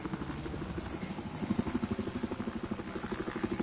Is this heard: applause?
no